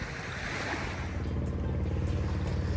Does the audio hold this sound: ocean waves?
yes